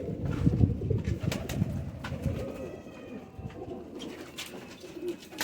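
Pigeons coo in soft, throaty, repeated low calls, several birds overlapping in a continuous murmur, close and moderately loud, with faint rustling and background chirps.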